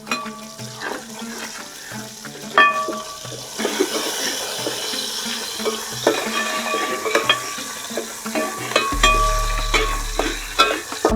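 Ginger, garlic, dried chillies and curry leaves fry in a pan for chicken perattu, giving a steady close sizzle with repeated clinks and scrapes of stirring, and a low rumble near the end.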